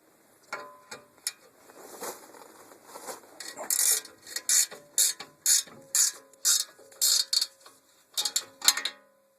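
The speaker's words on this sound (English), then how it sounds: "So you're going to take those out with a 15mm wrench." A 15mm wrench ratchets on the skid plate bolts beneath the transmission cross members of a second-generation Dodge Ram 4x4. It makes close, rhythmic bursts of rapid clicking, about a dozen short runs with brief pauses between them.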